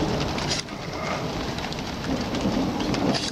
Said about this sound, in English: you can hear the storm in the background and the thunder rolls